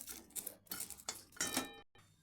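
Dried chillies, green chillies and garlic stirred in a wok, with a metal spatula scraping and clanking against the pan in several quick strokes, close and fairly faint, with no talk.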